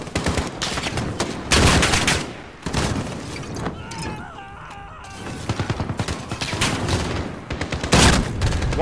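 Enemy gunfire in a Call of Duty Modern Warfare campaign battle: loud, close bursts of rapid automatic fire with a short lull in the middle, then further volleys, while voices shout over it.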